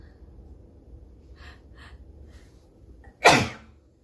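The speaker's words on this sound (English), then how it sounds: "I'm gonna sneeze." A single sudden sneeze bursts out near the end, loud and close, after a few faint breaths over quiet room hiss.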